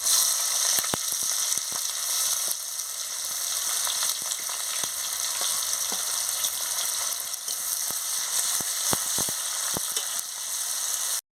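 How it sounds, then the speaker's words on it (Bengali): Chopped onion hitting hot oil in a pan while cooking a chicken curry, a loud, steady, bright sizzle with scattered crackles and pops throughout, no voices. "এবারে তেল গরম হয়ে গেছে, আমি পেঁয়াজ কুচি দিয়ে দিচ্ছি।"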